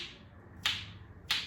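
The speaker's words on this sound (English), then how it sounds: "what we're going to do is we're going to rub the spoons down our hand like this" Musical spoons are rubbed slowly down a spread hand, giving two soft clicky scraping strokes with a faint rasp between them.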